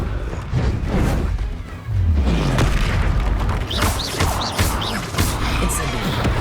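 A loud, booming Confringo fire-spell blast from Hogwarts Legacy, heavy crashing explosions layered with rumbling impacts and brief whooshes, filling the whole stretch with little pause.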